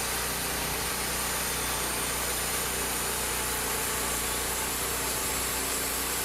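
Homemade bandsaw mill's engine running steadily at about 80% throttle, a close, loud, constant broadband drone with no pauses or voices.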